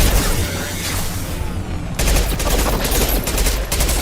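Continuous sustained gunfire from a firefight in the video game Mass Effect 2, dense and loud throughout with a brief dip midway before the barrage resumes at full intensity.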